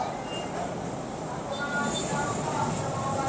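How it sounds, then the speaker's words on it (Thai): A light rail LRT train pulls into a busy Philippine station at rush hour, its purple-painted cars bringing a steady broadband rumble and hiss that swells slightly toward the end, with a crowd murmuring faintly around it. "รถไฟมาแล้ว"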